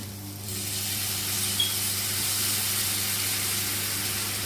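Hot water is poured into a pan of frying chicken curry masala with potato, setting off a steady, moderately loud sizzle and hiss that rises quickly and holds without a break.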